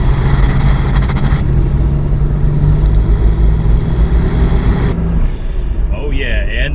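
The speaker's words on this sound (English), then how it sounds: "Now, this is a really good sounding V6." A 1993 GMC Typhoon with a 4.3-liter V6 roars loudly nearby, a deep rumbling drone that holds steady, then drops off, followed by a short whooshing blow-off valve hiss.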